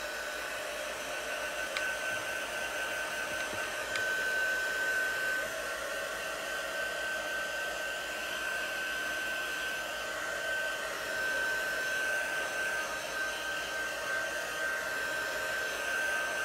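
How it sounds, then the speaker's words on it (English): A small handheld hair dryer, used for a chalk craft project, runs steadily for the whole stretch with an even, airy whir and a thin high whine, fairly quiet and with no talking. "I love my handy dandy little, my little dryer."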